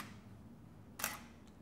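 A DSLR camera shutter fires once at a one-second shutter speed, giving a single sharp, fairly close click with no talking around it.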